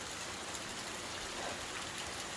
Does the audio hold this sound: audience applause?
no